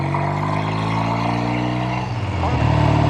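Engine of a 1969 Triumph TR6R Tiger 650 motorcycle running with a steady loud drone and firm harmonic hum, close up, pitch dipping slightly then rising again near the end as the revs shift.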